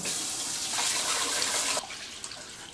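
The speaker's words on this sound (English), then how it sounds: "you need to rinse it with water to remove all the starchy, floury coating" Water runs from a tap over rice being rinsed to remove its starchy coating, a steady close rush that cuts off abruptly near the end, leaving faint drips.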